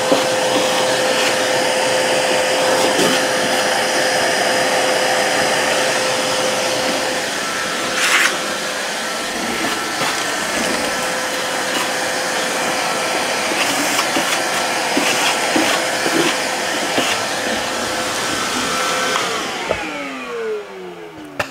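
A Vevor 2.5 gallon wet/dry shop vac runs steadily while vacuuming car carpet, a loud continuous motor whine and airflow rush lasting about twenty seconds, with brief suction changes and the motor winding down at the end.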